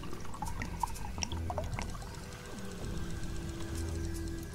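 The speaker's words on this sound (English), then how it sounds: "Gonna get some fuel in here while he's waiting." Fuel pours into a generator in the survival game Sheltered, a steady liquid trickle and glug running for a few seconds, with faint clicks and small mechanical rattles mixed in at low volume.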